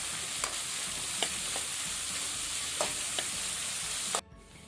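Onions frying for prawn biryani hiss in a continuous close sizzle with occasional stirring clicks, cutting off abruptly near the end.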